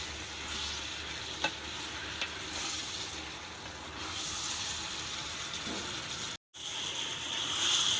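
Kohlrabi frying in hot oil in a pan, a steady dense sizzle with occasional stirring scrapes and clinks, close and continuous throughout.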